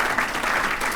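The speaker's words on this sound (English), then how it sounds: "let's give our Chairwoman another round of applause" Steady applause from the audience at a chamber of commerce State of the State luncheon for the chairwoman, a dense even wash of clapping heard alone for a brief moment.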